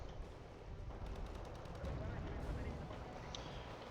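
Buk surface-to-air missiles launching in the Wargame: Red Dragon strategy game, a steady roaring rush of fire and battle noise with faint crackling bursts over a dense low rumble.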